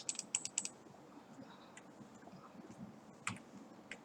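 Keys pressed on a computer keyboard for a Ctrl Alt shortcut, a quick run of faint clicks at the start, then a single tap later, quiet and close with no talk.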